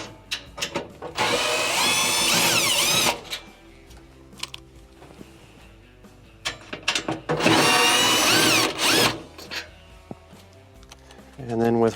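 Power drill backing screws out of an oven broil element in a Whirlpool, KitchenAid or Kenmore range, two loud whirring bursts with rising and falling pitch, separated by clicks and handling noises.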